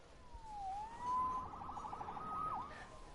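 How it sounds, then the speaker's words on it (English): A wailing police or emergency siren rises and falls in pitch for about three seconds, clear and fairly steady against faint background noise, with no one talking. "Saved by the siren."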